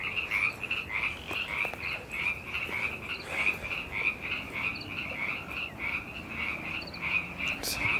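Frogs croak steadily in a repeating chorus around an old treehouse and swing area, a rapid pulsing call that runs through the whole stretch with no one speaking.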